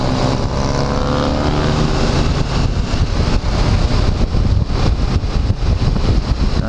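A Honda CB 500X, a mid-size motorcycle, rides through Rio de Janeiro streets between Grajaú and Jacarepaguá, giving a loud, continuous engine roar mixed with heavy wind rush.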